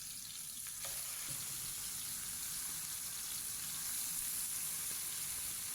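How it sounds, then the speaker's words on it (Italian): Caciocavallo cheese sizzling steadily in a pan as its base melts into a golden crust, a close, continuous crackling fry with no talking. "Bisogna attendere qualche minuto senza toccarlo, permettendo alla base di sciogliersi un po' e formare una crosticina dorata."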